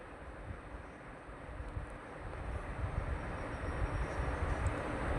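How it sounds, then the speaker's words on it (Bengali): Fish fritters, small round portions of fish batter, dropped one at a time into hot oil in a frying pan, giving a steady broadband sizzle that grows slightly louder and denser. "এইবার গরম তেলের মধ্যে একটা একটা করে ছোট ছোট গোল গোল সাইজের করে"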